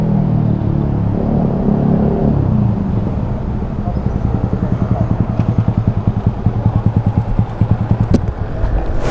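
Close and loud, a motorcycle engine rumbles, then settles into a rapid, clattering idle-like pulse of evenly spaced beats, with a sharp click near the end.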